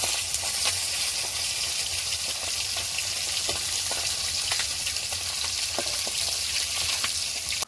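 Fish fries loudly in a pan, a dense, continuous crackling sizzle close by that holds its level from start to finish, with small pops and spatters scattered through it and no talking.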